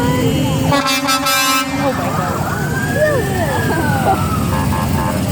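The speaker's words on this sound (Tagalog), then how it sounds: "Now the first fire truck." A fire truck's air horn blares loudly with long tones at a Christmas parade in New Zealand, over a noisy crowd and a wailing siren sweeping up and down.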